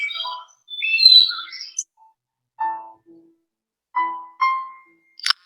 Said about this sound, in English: The birds are chirping in the background